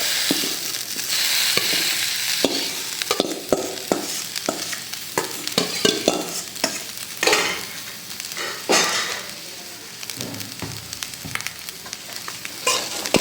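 Coconut rice mixture stirred and sautéed in a pan, with repeated scraping and clattering strokes of a spoon over a constant close sizzle, the strokes coming in uneven bursts, no speech.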